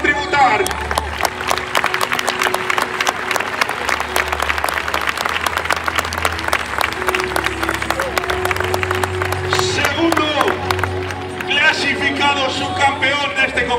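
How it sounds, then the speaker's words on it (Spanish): Sustained applause from a large crowd at a bull-cutting contest (concurso de cortes) in Mayorga, 2023, honoring the two finalists; dense, steady clapping with a cheering hubbub runs for the whole stretch, with a loudspeaker-like voice and music underneath. "los dos se merecen este aplauso que Mayorga les va a tributar"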